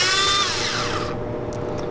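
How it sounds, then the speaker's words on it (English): A small impact driver working on Ford Focus RS bumper parts during an intercooler upgrade gives a brief whirring burst that falls in pitch and fades, close and alone. "These little impact drivers are awesome."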